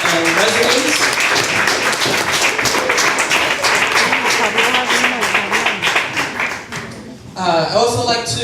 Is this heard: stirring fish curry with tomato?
no